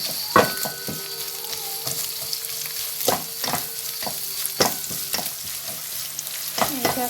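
Onions fry in an open pan with a steady sizzle while a utensil stirs, scraping and clacking at irregular intervals; no one speaks.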